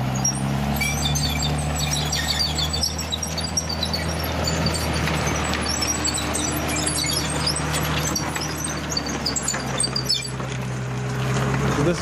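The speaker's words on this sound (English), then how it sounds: "in a minute here, we're going to hear this this Abbot turning" Loud, continuous low engine rumble and mechanical grinding of an Abbot self-propelled gun turning nearby, steady throughout with a broad noisy roar.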